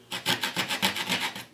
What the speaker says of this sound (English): Cutting with the coping saw isn't terribly difficult